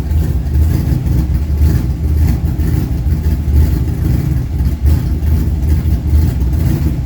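Superformance car engine idling cold just after starting, a loud steady low rumble with a slightly uneven throb, close by and without speech.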